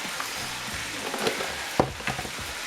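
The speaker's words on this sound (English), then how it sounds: "You hear those pork chops sizzling away behind me." Pork chops sizzle on a grill with a steady, soft frying hiss and a few sharp crackles and pops rising above it, fairly quiet and with no one speaking.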